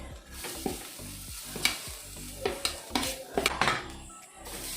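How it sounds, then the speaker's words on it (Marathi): Grated coconut roasting in a pan for a Goan chickpea tonak: close, uneven scraping and knocking of a spatula against the metal pan over a soft sizzle, with several sharp clinks. "हे बरे भाजून घेऊया आम्ही सय"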